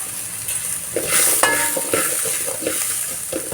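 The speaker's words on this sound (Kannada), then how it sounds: "ಇದನ್ನು ಇವಾಗ ಈ ರೀತಿ ಫ್ರೈ ಮಾಡ್ಕೊಳ್ಳೋಣ" Bitter gourd, onion and grated coconut fry in a pan with a steady sizzle, while a spoon stirs and scrapes through the mix in short strokes, close and fairly loud, with no talking.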